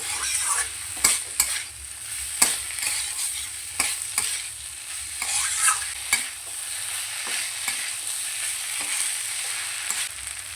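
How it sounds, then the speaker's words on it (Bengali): Figs and fried potatoes are stirred with spices in a pan, a steady soft sizzle of frying under repeated scraping strokes of a spoon against the pan, close by and with no speech. "ডুমুর আর আলু দিয়ে খুব ভালো করে মশলার সঙ্গে কষিয়ে নেব"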